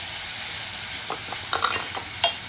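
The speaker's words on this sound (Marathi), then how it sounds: "पहिला आपली जी पेस्ट आहे थोडीशी परतून घ्यायची, हलकीशी जास्त नाही" A spice paste sautés gently in a pan, a faint steady sizzle with a few light stirring scrapes toward the end.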